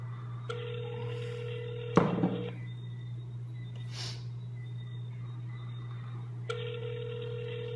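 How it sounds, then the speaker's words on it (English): A telephone line rings in repeated long electronic tones with a sharp thunk between them, under a steady low hum, after a number is dialed. "I'm gonna dial your number, Fitzy. Answer it."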